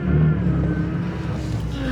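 A drift car's engine revs steadily to heat its tires, a continuous loud mechanical drone with a low harmonic hum, close and alone without speech.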